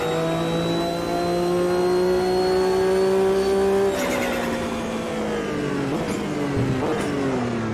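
Porsche and BMW race cars in the AMS 2 sim racing game rev hard and accelerate, engine pitch climbing steadily before dropping on gear changes, with tire squeal and loud continuous engine roar throughout.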